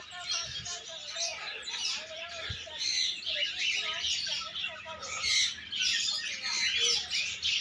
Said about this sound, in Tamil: நிறைய பறவைகள் இருக்குங்க இங்கே